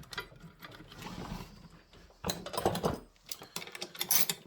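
A ratchet tightens bolts on a vintage saw in a garage, giving quick clicking bursts with pauses between, close and fairly quiet, with some clanking of metal.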